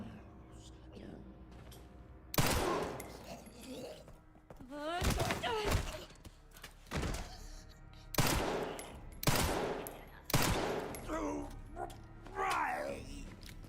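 Several sharp, loud gunshots from a firearm in the video game Resident Evil Requiem, spaced out in single bursts and separate shots, mixed with game sounds and someone talking between them.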